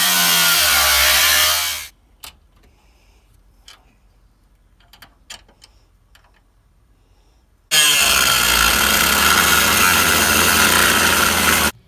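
A grinding wheel cutting through a car roof makes a loud, harsh, sustained whine up close, stops for several seconds with a few faint clicks and knocks, then starts again and runs steadily before cutting off.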